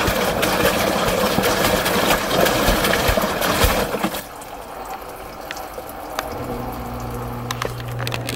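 A Samsung QDrive 10.2 kg washer-dryer rinses with a strong, steady rush of water that drops off sharply halfway, leaving a quieter hiss and a low motor hum as it begins draining.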